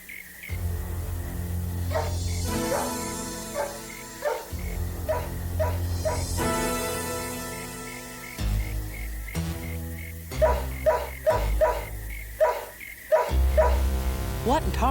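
A dog barks repeatedly in irregular bursts, some sharp and some yelping, fairly close, mixed with stretches of talk.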